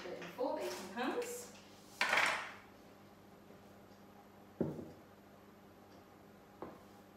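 Metal baking pans clatter in a kitchen while a cake batter is divided into four of them, with a few sharp knocks and clinks spaced apart and a person talking briefly at the start.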